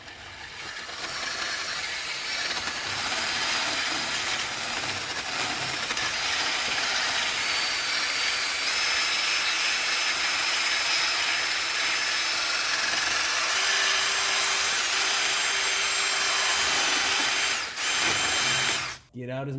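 A grinding stone spins against a 2011 Subaru Legacy's suspension area, a loud, sustained high-pitched whine that holds steady for most of the clip before cutting off near the end, with a voice talking over it.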